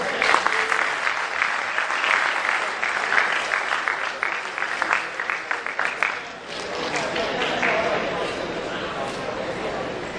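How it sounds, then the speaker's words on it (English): A university audience gives a big round of applause for a guest speaker, many hands clapping loudly and unevenly with some rhythmic bursts, then settling into a softer, steadier patter as a voice murmurs underneath. "I would like you guys to give a big round of applause for Dr. Zainab"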